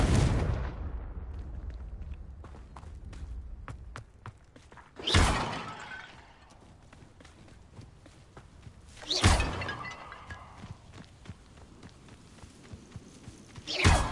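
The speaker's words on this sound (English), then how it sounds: "I think there should only be a few more vases. Confringo!" Confringo spell blasts shattering vases in the video game Hogwarts Legacy: three loud bursts of crashing breakage, each ringing out and fading, spaced a few seconds apart over a low game ambience.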